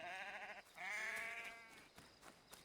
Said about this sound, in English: Cannot kill the sheep.